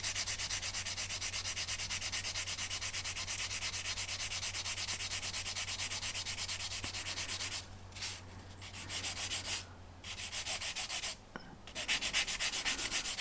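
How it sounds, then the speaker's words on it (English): Sanding filler off a 1/200 Heller Elizabethan plastic model ship kit: continuous close, even rasping scrub that runs steadily, then breaks into shorter strokes with brief pauses near the end. "so I can sand that away"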